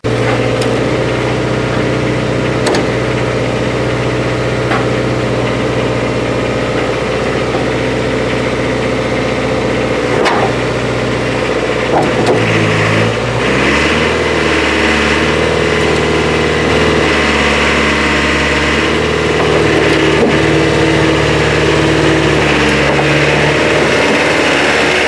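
A car engine idles with a steady low rumble that shifts pitch midway, then keeps running evenly, close and continuous with no talking.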